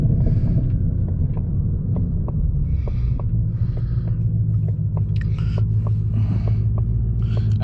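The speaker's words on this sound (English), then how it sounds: "if you guys hear the downshifts" A 2020 Shelby GT500 engine rumbles and hums steadily from inside the car, with a series of short sharp clicks and brief throttle blips spaced across the run as it downshifts.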